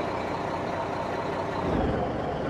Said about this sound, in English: It's got a mean sounding motor.